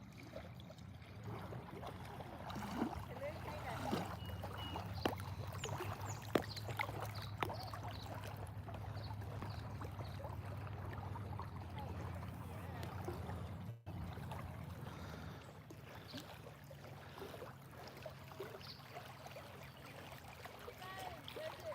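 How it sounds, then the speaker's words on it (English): Small waves from passing boats lap steadily against the shore of a lake, a continuous low wash with soft splashes. Faint voices come and go in the background. "Now the waves are coming in from the boats."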